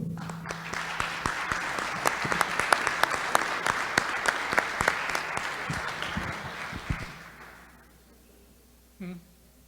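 A town meeting audience applauds steadily for several seconds, a dense wash of clapping that tapers off, followed by a brief voice.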